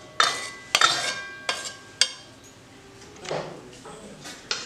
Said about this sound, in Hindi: मैं इसका बाउल शिफ्ट कर देती हूँ।